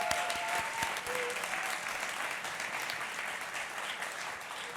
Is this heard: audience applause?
yes